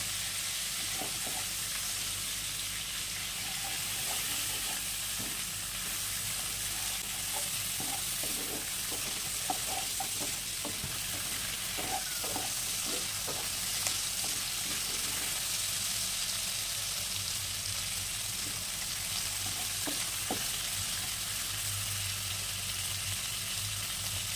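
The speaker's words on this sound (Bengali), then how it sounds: "মাছগুলো আমাদের ভাজা হয়ে গেছে" Hilsa fish seasoned with salt and turmeric sizzles in hot oil, a continuous, dense hiss with sporadic sputtering pops and soft spatula touches, heard up close with no talking.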